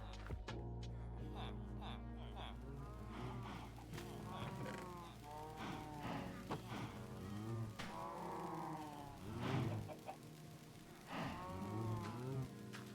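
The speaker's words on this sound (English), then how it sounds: "we come over here, we feed the cows" A herd of about two dozen penned cows in a blocky, Minecraft-like survival game moo repeatedly, with overlapping drawn-out calls rising and falling one after another, close and clear over a low steady hum.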